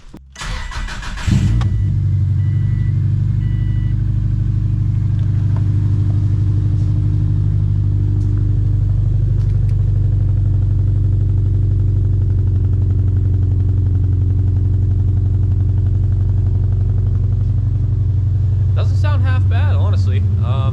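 A car fitted with a street bike exhaust cranks briefly and starts, then settles into a loud, steady, rumbling idle close by for the rest of the clip, with faint mechanical clatter near the end.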